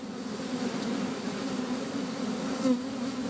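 Angry honeybees swarm and buzz around an opened hive in the evening, a dense, steady drone close by that holds throughout, with a brief louder swell near the end and no talking.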